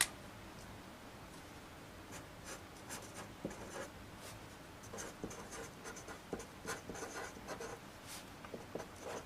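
Marker or chalk writing on a board during a math lesson, with a series of soft, irregular strokes and taps at moderate level over a quiet room.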